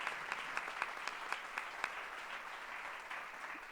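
An audience at a health-rights gathering applauding, a steady wash of many hands clapping with a few sharper individual claps standing out, fairly distant and even throughout.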